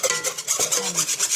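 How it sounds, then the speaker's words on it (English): A fruit snack mixture being whisked hard by hand in a bowl, a fast, steady scraping and rubbing rhythm of repeated strokes, fairly loud and close with no talking. "I'm going to finish whisking this up. I know it's a little loud."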